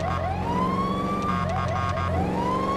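Police vehicle siren in GTA 5, a loud wailing tone sweeping up and down with quicker yelps partway through, over a low engine hum.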